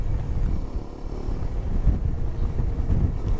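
Strong wind on a remote, well-built hill road, roaring and buffeting loudly and continuously against the microphone with low rumbling gusts.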